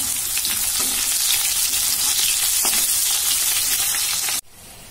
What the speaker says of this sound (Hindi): अब देखो आलू फ्राई कर रही हूँ।